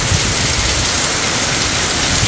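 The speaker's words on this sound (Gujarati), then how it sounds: "હવે ધોધમાર વરસે છે જો" A heavy village downpour driven by wind, a dense, steady roar of rain that holds at full strength throughout with no voices.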